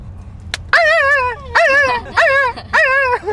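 A person's voice imitates a dog yelping when beaten, giving four loud whining yelps in a row, each with a wavering pitch, close and clear, after a sharp tap.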